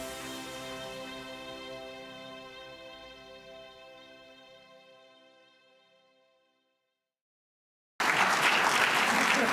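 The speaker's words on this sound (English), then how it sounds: "Clapping for you." At the 2017 New Venture Competition kick-off event, a ringing musical chord decays slowly into silence before a loud, sudden burst of audience applause breaks in near the end.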